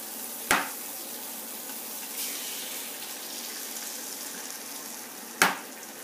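Eggs sizzle in melted butter in a pan, a steady soft frying hiss broken by two sharp clinks of a utensil against the pan.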